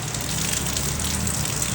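Rain falls steadily in a dense, even hiss that fills the whole stretch without pause, moderately loud and close by, with no talking.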